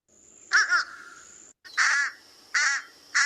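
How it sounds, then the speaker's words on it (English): Fish crow calls in short nasal bursts, four separate calls spaced about a second apart, close and clear over a faint steady background tone. "Here's the fish crow again."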